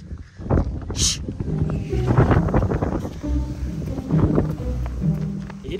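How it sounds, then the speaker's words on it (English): Strong gusty wind buffeting the microphone outdoors, rumbling loudly and unevenly throughout. "It is so windy outside."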